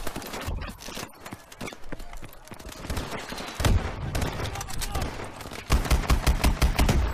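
Rapid bursts of gunfire in the futuristic shooter Call of Duty: Advanced Warfare, loud and repeated in clustered volleys with heavy low thumps, some sharp impacts and faint talk mixed in.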